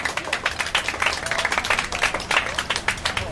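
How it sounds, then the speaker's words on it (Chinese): An audience claps at a housing-rights discussion forum, brisk and steady for a few seconds with a faint voice or two mixed into the crowd. "大家都应该俾多啲掌声"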